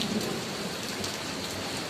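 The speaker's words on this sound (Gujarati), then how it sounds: "જો વરસાદ કેવો ચાલુ થઈ ગયો છે આપણી પાછળ" Heavy, steady rain with hail pouring down in Bhavnagar, Gujarat, with a dense, even hiss, and no voices.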